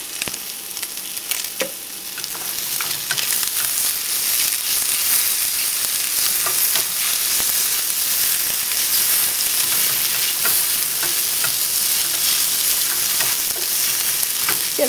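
Cheese for a breakfast burrito fries in a pan with a steady, close sizzle and hiss that runs continuously, with faint crackles throughout and no talking.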